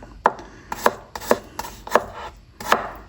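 Garlic being sliced with a knife on a board, five crisp, evenly spaced chops about every half second, close and clear with no talking.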